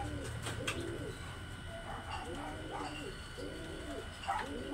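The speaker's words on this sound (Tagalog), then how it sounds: "Ang lakas ng ibon." Racing pigeons coo in a loud, repeated rhythm at a loft during a pigeon race arrival, several close calls spread across the clip over steady background noise.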